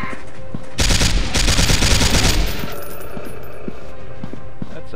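Shotgun blasts from Dinosaur Hunter, a loud, close cluster of rapid shots packed into a couple of seconds, then fading into quieter ambience with faint ticks.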